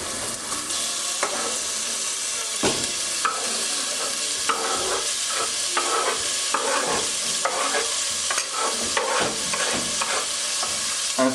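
Meat and onions fry in hot pork fat for a medieval green broth, with a loud, continuous, close sizzle and repeated scraping from stirring.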